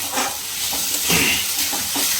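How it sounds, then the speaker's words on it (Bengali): Potatoes for aloo posto lightly frying and being stirred in a pan, a steady close sizzle with soft scraping strokes, no garlic, onion or ginger in the dish. "ভেজে নিই একটু হালকা ভাজা হয়ে গেলে হয়ে যাবে"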